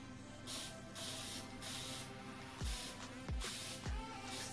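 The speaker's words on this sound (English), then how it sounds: "First thing I like to do is spray my hair." Hair locs are sprayed with a spray bottle in repeated short hissing bursts, several pumps in a row, close and fairly loud, with soft thumps of the bottle being handled between sprays.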